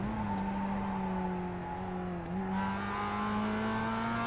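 A Mazda MX5 engine in the iRacing sim at Summit Point's Jefferson layout hums at a steady drone, dipping briefly before climbing again with a rising rev, close and alone.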